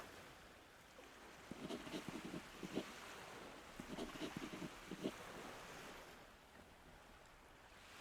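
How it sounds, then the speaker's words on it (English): Small boat bobbing on a quiet bay in NieR Re[in]carnation, with soft water lapping and gentle surf washing steadily, brief clustered knocks midway, faint and ambient throughout with no talk. "The small boat the thief prepared beforehand bobs gently on the water."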